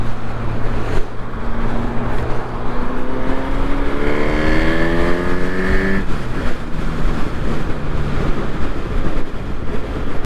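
A Honda Hornet 1000 SP motorcycle engine heard while riding, a loud, constant engine drone whose pitch climbs steadily through a gear, dips briefly at a shift, then carries on under heavy wind rush.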